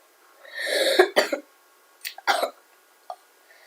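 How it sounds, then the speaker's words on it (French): Several coughs close to the mic: a long, rough, wet cough, then two shorter phlegmy bursts and a small final one, with pauses between. "c'est une toux vraiment très grasse et ça fait vraiment très mal"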